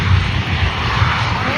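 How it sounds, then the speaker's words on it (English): An Alpha Jet rolls down the runway for takeoff at an air show, with a loud, steady broadband jet roar and low rumble holding for the whole stretch and no break in the noise. "Mark Peterson in the Alpha Jet on the roll."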